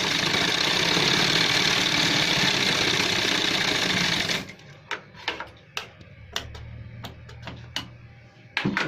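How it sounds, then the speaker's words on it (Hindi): A sewing machine runs in a fast, steady whir while double-stitching a gents shirt sleeve, then stops, followed by scattered clicks and handling taps with a low hum. "इस तरीके से डबल सिलाई कर देंगे"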